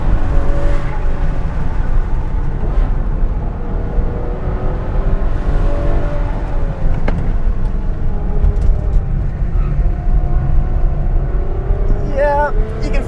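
A Ferrari FF's V12 engine and exhaust droning loudly from inside the car while driving, a steady rumbling hum with shifting tones, and a voice talking over it.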